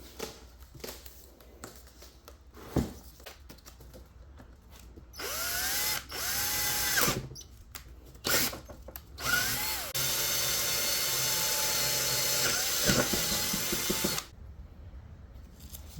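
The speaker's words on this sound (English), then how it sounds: "now we know where to drill." A power drill bores into the undercar shield of a 2015 Mitsubishi Lancer, with several loud whining bursts of rising and falling pitch, short stops between them, and a final steady run.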